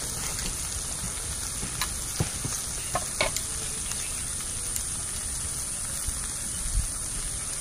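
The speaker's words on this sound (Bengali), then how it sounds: "আবারও কিছুক্ষণ এইভাবে নাড়াচাড়া করে নেব" Milk shukto with bitter gourd leaves being stirred in a pan, a soft continuous sizzle with occasional light scrapes and taps of the spoon against the pan, low and steady with no talking.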